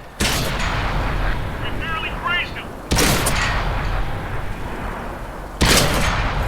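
Tank cannon fire in the World of Tanks game from a Chinese 59-16 light tank, three heavy booming shots spaced a few seconds apart, each leaving a long rumbling decay amid game noise.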